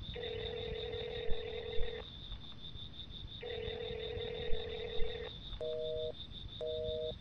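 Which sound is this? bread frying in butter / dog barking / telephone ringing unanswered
telephone ringing unanswered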